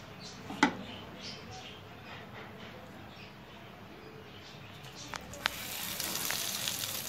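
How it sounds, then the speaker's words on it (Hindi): Breadcrumb-coated kebabs of loki and chickpea lentil frying in oil give a steady, fairly faint sizzle with a couple of sharp pops. The hiss swells louder near the end. "कबाब देखें हमारे फ्राई हो रहे हैं"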